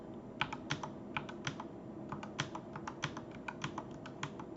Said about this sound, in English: I'm going to type this list of numbers into list 1.